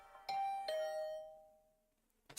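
A doorbell in The Hundred Line video game chimes a two-tone ding-dong, two bright tones in quick succession ringing out and fading over about a second, clear and alone.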